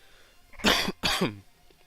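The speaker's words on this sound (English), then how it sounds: "I'm still kind of trying to get over the cough." Two harsh, close coughs from one person recovering from a lingering cough, each a loud burst about a third of a second long, separated by a brief pause and set against near silence.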